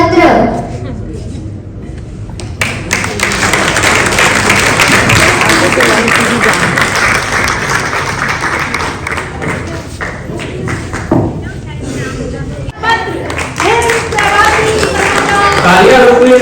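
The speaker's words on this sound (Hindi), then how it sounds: "तालियां रुकने की नहीं चाहिए।" Audience clapping at the grand launch ceremony of the Him Pravasi newspaper, a loud sustained crowd applause swelling after a few seconds and continuing under an amplified voice addressing the hall.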